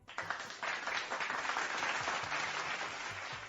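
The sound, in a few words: applause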